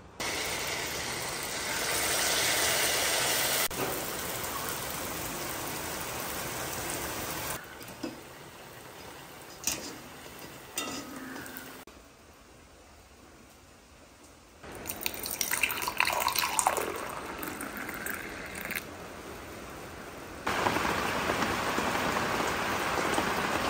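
Steady rain falls on a tiled-roof house in the evening, a dense hiss with dripping that shifts in level as the scene changes, fading briefly before returning heavily, with no voices.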